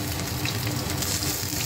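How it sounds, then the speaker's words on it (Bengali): Goat-fat fritters frying in hot oil give off a steady, dense, close sizzle that holds evenly throughout, with no voices. "খাসির চর্বির বড়া ভাজা হয়ে গেল"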